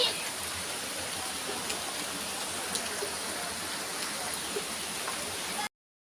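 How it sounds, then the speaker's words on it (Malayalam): Steady rain falls outdoors beside a small canal or stream, a continuous broadband hiss that stays even and moderately loud throughout with no voices, then cuts off abruptly near the end. "ഇപ്പോൾ ഇച്ചിരി മഴ കുറഞ്ഞിട്ടുണ്ടേ"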